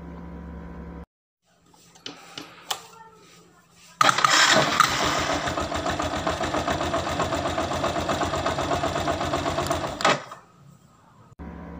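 Motorcycle engine cut by a wireless remote killswitch: a few clicks, then the engine starts and runs loudly in a steady rapid putter for about six seconds before stopping abruptly.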